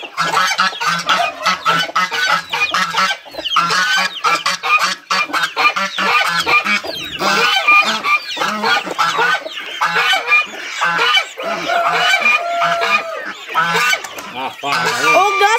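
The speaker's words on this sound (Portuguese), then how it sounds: "pelo menos os gansos já saem." Geese on a farm honking loudly and repeatedly, a busy flock calling over one another in close, overlapping bursts, with chicken-like clucks mixed in and occasional human talk underneath.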